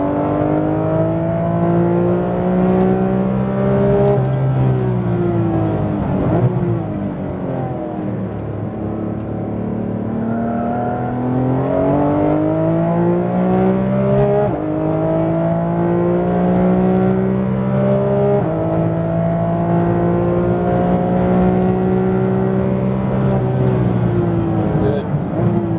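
A Porsche GT3 RS engine revs through repeated rising and falling pulls on the Speedvegas track during a high-performance driving session, loud and close with a steady harmonic whine throughout.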